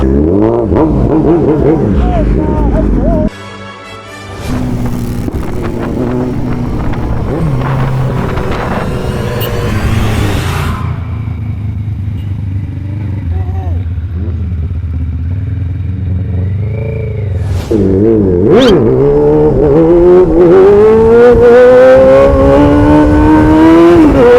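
A stunt motorcycle fitted with a crash cage revs loudly up close, its engine swelling and falling through repeated bursts, with a brief cut-out early on and a harder, rising rev near the end.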